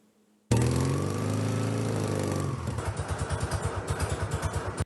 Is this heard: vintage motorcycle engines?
yes